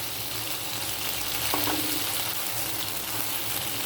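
Okra chachchari sizzles and fries steadily in a pan as mustard paste goes in, a loud continuous crackling hiss with a brief scrape partway through.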